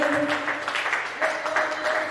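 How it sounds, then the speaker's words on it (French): A church congregation applauds and cheers loudly in worship, a dense, steady wash of clapping and shouting voices that carries through the whole short stretch with no single speaker standing out. "Acclame très fort pour le roi de roi"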